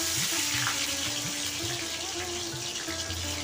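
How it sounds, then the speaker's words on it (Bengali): Pumpkin-leaf puli fries slowly over a low flame with a constant soft sizzle, overlaid by a rhythmic low hum and faint background clatter, close and unbroken, without speech. "কম আঁচে আমি এটাকে ধীরে ধীরে ভেজে নেব"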